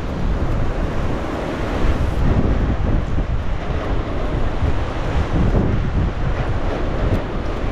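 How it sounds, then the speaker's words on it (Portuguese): Strong storm wind roars continuously against a car stopped at a fuel station, loud and buffeting the microphone throughout. "Mas olha o vento, olha isso, gente."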